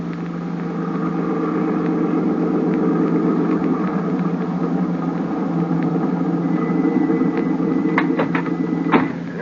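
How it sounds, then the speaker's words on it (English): A car engine drones steadily in an old 1937 radio drama, an even mid-pitched rumble running throughout with a few faint clicks near the end. "I've got my car right downstairs."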